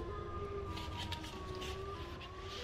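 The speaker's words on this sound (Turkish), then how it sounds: "Çünkü bu Sirenhead'in sesi dayanılmıyor." The wailing siren of the Sirenhead creature in a game, a faint, steady, sustained tone that holds with slight pitch wavering over a low rumbling background, with no voices.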